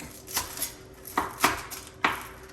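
A knife chops garlic and ginger on a cutting board, sounding as several distinct, fairly loud thuds spaced irregularly, each with a crisp attack.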